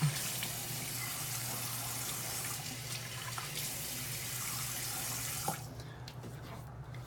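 Tap water running into a sink while a face is wetted before a wet shave, a steady close gush with small splashes that stops near the end, no talking.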